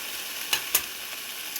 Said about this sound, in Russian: Так, добавляем томат-пасту.